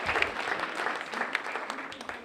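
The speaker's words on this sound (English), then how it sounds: "Everybody give Sharon a round of applause for helping out." Audience at a mentalist-magician's matinee show applauds a helper from the crowd, steady moderate clapping that fades slightly toward the end.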